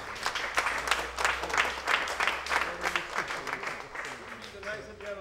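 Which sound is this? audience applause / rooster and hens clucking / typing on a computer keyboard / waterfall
audience applause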